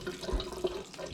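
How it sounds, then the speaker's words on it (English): Cold water runs from a kitchen tap over raw chitterlings being cleaned by hand, a soft, steady splashing close by with small irregular bursts. "I like to run some cold water"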